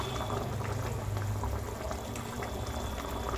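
Doi katla, carp in a yogurt curry gravy finished with ghee and garam masala, simmers and reduces in the pot, giving a steady, close bubbling and hissing boil that runs unbroken throughout.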